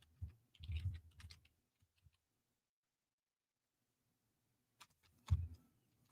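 Computer keyboard typing in two short bursts of close, soft clicks and taps separated by a few seconds of silence, the keyboard not working well.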